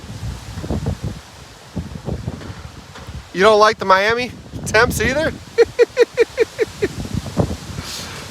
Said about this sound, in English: Those gusts right there, you can see them really moving the trees.